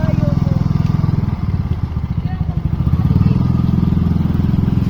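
Motorcycle engine idling and revving close by in a steady, throaty chug, with people talking over it.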